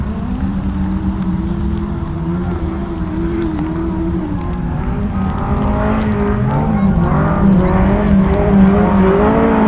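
Autograss race cars roar around a muddy oval track, several engines droning loudly and continuously with rising revs and shifting pitches as they pass close by.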